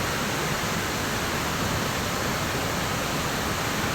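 Steady broadband roar of Tenoy-an Falls in Bislig, Surigao del Sur, heard from the base of the waterfall as a constant, loud wash of falling water with no voices.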